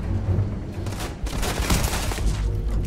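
A Grendel rifle in the video game Starfield fires rapid bursts of loud, close gunfire that continue almost without a break, with a short pause near the middle, and no talking.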